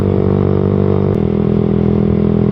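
Motorcycle engine held at high RPM at top speed, picked up by a low-budget action-cam microphone: a loud, continuous droning whine that shifts pitch slightly midway, with wind rushing underneath.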